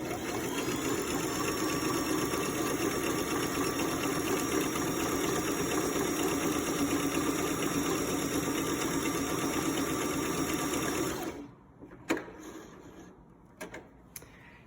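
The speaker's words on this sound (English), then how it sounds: "if I try to sew close to the edge, this machine folds the fabric in" Zigzag stitching along a fabric edge on a sewing machine, a steady, close mechanical whir running unbroken for about eleven seconds, then cutting off to near quiet with a few small clicks and taps.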